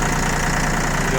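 Loud, steady diesel rumble of an ISEKI TA317 tractor idling in snow, close up and continuous, with someone talking over it.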